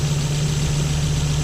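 A 2000 Volvo S70 engine with an oil sump issue idles just after being restarted, giving a steady, close, low mechanical hum.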